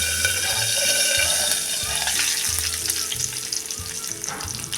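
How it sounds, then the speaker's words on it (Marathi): Curry leaves and asafoetida crackling in hot oil for a Maharashtrian tamarind-jaggery amti, a dense continuous sizzle with quick sputtering pops and some clattering, close and loud. "कढीपत्ता कढीपत्ता उडतो म्हणून हे पटकन असं झाकून घेण्यावर"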